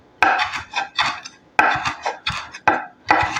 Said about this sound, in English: I'm just going to give it a rough chop